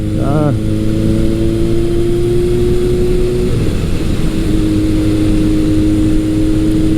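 A 1981 Kawasaki KZ1000 motorcycle fitted with a Delkevic exhaust revs up loud and close, its engine note climbing steadily then dropping back and settling into a steady drone.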